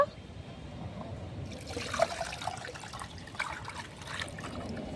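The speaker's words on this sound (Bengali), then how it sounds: "তো এটা মেপে আমি জল দেব।" Water poured from a measuring container into a ground sago paste, a steady close trickle and splash that starts about a second in and continues under faint background noise.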